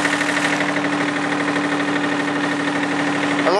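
A tractor engine clears snow in the cold while running rough, its steady, knocking idle close and continuous, with an uneven mechanical rattle and no talk.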